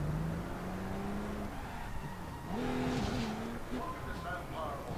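Crown Vic car in the video game APB Reloaded, its engine droning with shifting pitch and brief tire squeals as it skids, under someone talking.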